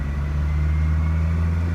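A 2018 Toyota Hilux E with a 2.4L engine and manual transmission runs at raised revs in power mode, giving a steady, loud, close engine drone with no noticeable rise or fall.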